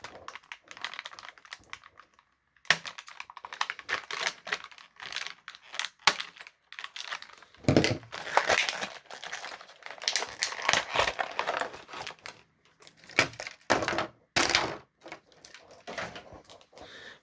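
Scissors snip through twist ties holding a He-Man action figure in Masters of the Universe Origins toy packaging, giving close, irregular snips and plastic crinkling in short bursts with quiet pauses.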